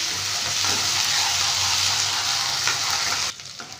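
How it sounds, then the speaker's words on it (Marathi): Onions and green chilies frying in oil sizzle loudly and steadily up close, the hiss dropping away sharply near the end, with no talking. "कांदे आणि मिरची छान अशी झालेली आहे आपली तेलामध्ये फ्राय"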